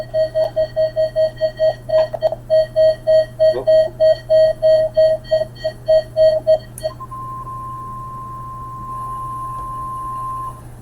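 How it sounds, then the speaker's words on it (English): A weather radio warning alarm device sounds a rapid series of loud, evenly pulsed beeps for about seven seconds, then switches to a steady continuous tone, alone without talking. "This is a Hill weather radio warning alarm device."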